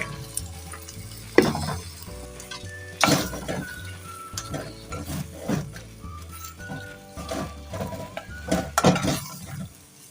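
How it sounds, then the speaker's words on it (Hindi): Bottle gourd cubes stirred into sizzling masala in a clay cooking pot, a steady frying hiss with scraping spoon strokes and clinks against the pot, sharper bursts at intervals, with soft background music and no talk. "इसे मसाले में अच्छे तरीके से मिक्स कर लें"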